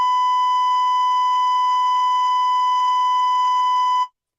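A single loud, steady electronic beep tone holding for about four seconds, then cutting off abruptly.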